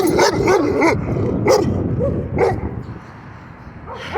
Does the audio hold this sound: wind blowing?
no